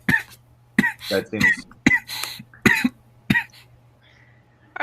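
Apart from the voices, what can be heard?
coughing fit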